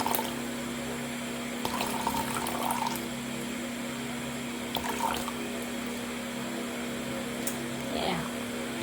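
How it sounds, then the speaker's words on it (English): Tap water running into a container as it is measured out for a soap lye solution, a soft steady trickle with a few brief splashes, set against a constant low hum. "So now let's measure the water for our lye."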